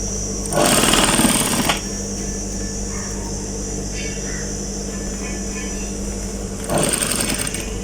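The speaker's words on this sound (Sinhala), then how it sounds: "මෙතනදී ඉලාස්ටික් එකත් අහු වෙන්න තමයි අපි මහන්නේ." A sewing machine stitches elastic into the waistband of a pair of shorts, running in two loud rapid bursts of needle chatter, one at the start and one at the end, with a steady low hum between them.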